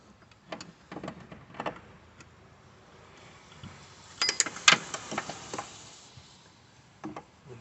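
Tightening the bottom 13mm bolt on a replacement alternator of an Audi TT 1.8T, with faint scattered ratchet clicks and metallic ticks, brief and close, in a quiet setting.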